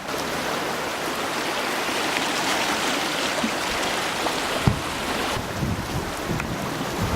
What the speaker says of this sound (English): This is called the Eagle River here.